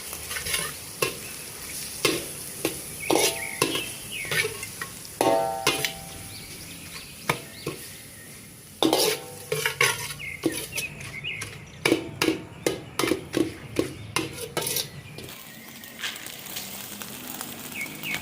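Garlic and thinly sliced carrots fried in oil with a steady sizzle, stirred by quick, repeated scraping strokes that grow busier toward the end, close and clear with no talking.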